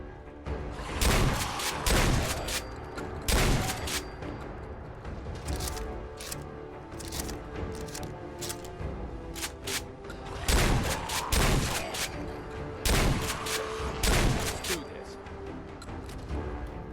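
Gunfire in the video game Fallout 4, loud sharp shots fired in irregular clusters over a steady ambient background, with a voice talking at times.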